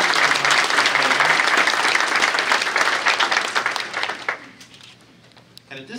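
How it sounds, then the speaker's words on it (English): A conference audience at a collegiate STEM event gives loud, thick applause that fades away after about four seconds, and then a voice briefly speaks. "How about another round of applause for our"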